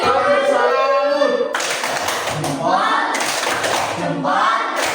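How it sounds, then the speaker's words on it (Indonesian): A class of students claps for group 4 in a classroom, a dense run of hand claps that is loud and close, rising and falling in waves with voices mixed in. "kita beri tepuk tangan untuk kelompok 4"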